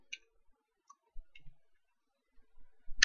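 Sparse clicks and taps from a computer keyboard and mouse, a few isolated soft clicks with quiet gaps between them, then a sharper cluster of clicks at the end.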